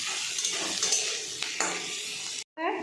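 Potato pieces are stir-fried with cumin and chili powder in a hot pan: a soft sizzle runs underneath while a spatula scrapes and clinks against the pan, ending in a brief silence and then a louder sputter.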